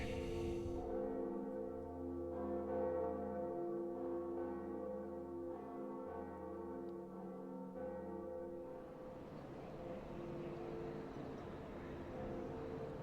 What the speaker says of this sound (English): But first we got to ring the bell.